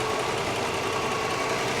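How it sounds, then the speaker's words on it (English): A Mercedes 500SEC engine idles smoothly and steadily at close range, a continuous low hum with faint mechanical ticking and no voices. "The car's idling great right now."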